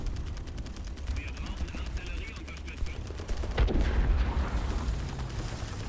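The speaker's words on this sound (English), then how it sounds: "Jesus, hellfire, that's a lot of artillery." Heavy artillery and gunfire in War Thunder tank combat near a T-28, with rapid repeated firing building into a loud booming blast and rumbling aftermath.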